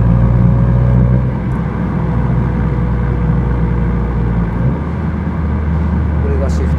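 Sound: Honda Civic FK7 engine revving through manual gear shifts

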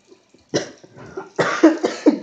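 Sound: cough

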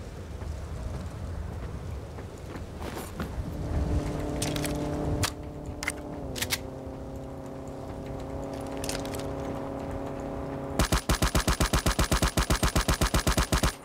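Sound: long-range gunshots in Ring of Elysium video game

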